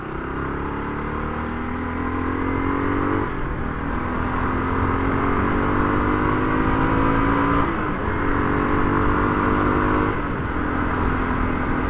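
A Kawasaki KLR 250 motorcycle accelerates hard along a county road, its single-cylinder engine climbing in pitch through steady revs with brief drops at gear changes, loud and close throughout with wind noise and no talk.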